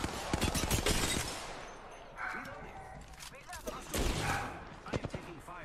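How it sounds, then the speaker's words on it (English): Rapid video game gunfire, dense bursts of shots crackling loudly at the start, then sporadic volleys and single pops, with a voice talking over the action. "I am taking fire, friends."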